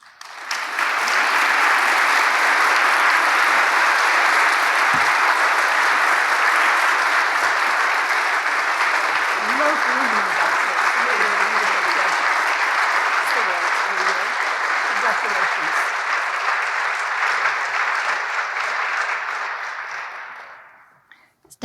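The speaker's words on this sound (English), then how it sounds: "We applaud this monumental achievement." Sustained applause from a large audience at the Medieval Academy Annual Meeting, steady and full for about twenty seconds before tapering off abruptly.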